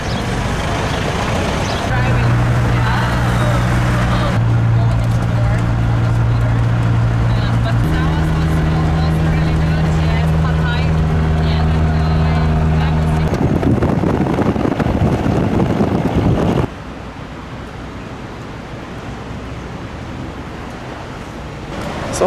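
A songthaew shared taxi truck driving from Chiang Mai to Chiang Rai gives a loud, steady roar of road and wind noise with a low engine drone that runs through the whole stretch.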